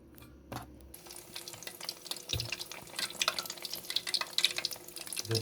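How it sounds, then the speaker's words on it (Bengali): Battered prawns dropped one by one into hot oil for deep frying, a steady crackle and bubbling that builds after a brief quiet start, close and moderately loud with no talking. "এবার সব চিংড়ি মাছগুলো এইভাবে ডুবাবো, ডুবে আমি ফ্রাই করবো। দেখুন এবার ফ্রাই যাচ্ছি আমি।"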